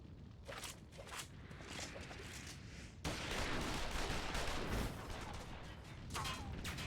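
Scattered gunfire in a Final Fantasy XIV cutscene, a dense crackle of shots and battle noise that swells partway through, heard at moderate distance.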